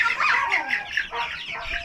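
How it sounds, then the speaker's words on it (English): Several chickens cluck busily in their new coop, a close, continuous chatter of overlapping clucks and short calls with no voices. "Do you think the chickens are happy with their new home?"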